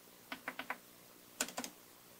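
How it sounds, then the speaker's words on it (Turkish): Keys clack on a secondhand laptop keyboard with previous liquid damage: a quick run of four taps, a pause, then three or four more close-up presses under faint room noise. "Klavyede çok güzel basıyor."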